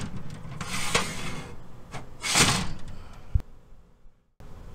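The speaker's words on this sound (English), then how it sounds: "this box is unique in that the top lid slides off to the side" The top lid of an RV trailer battery lockbox slides sideways with a close, gritty scraping rub in two long pushes, then a short knock and a moment of near silence.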